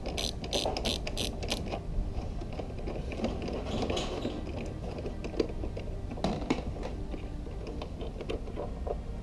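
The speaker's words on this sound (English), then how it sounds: "You can get it with a ratchet." Ratchet wrench loosening a screw near a hose on a Bentley GT Continental headlight, giving a steady close run of fine rapid clicking that continues throughout with no talk.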